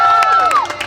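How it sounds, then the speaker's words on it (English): Children at a graffiti paint-out event cheer and yell, high shouting voices rising and falling over a short burst of crowd noise with scattered claps. "Clap or yell."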